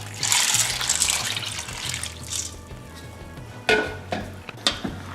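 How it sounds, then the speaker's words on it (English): Water runs and splashes into a container of brown beans to soak them, a steady close rush with a few sharper sloshes and knocks toward the end, no voices. "I'll be adding some water to soak the beans for about half an hour"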